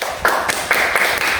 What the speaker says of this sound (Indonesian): mari kita beri tepuk tangan kepada kelompok 1